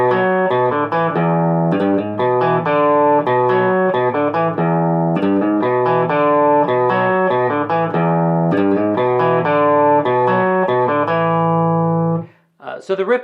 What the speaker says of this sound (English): Now I'm going to play the riff up to speed, and I'll just play it a couple times in a row